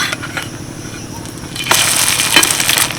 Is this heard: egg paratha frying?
yes